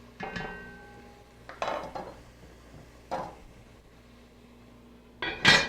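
Metal cookware clinks and clatters on a stove while celery and onion soften for mac and cheese, with several separate knocks and a sharp final clang as a cover goes onto the pot.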